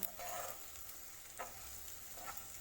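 Taro root pieces frying with chili powder in a pan, a steady close sizzle with occasional stirring scrapes and crackles, alone without talk.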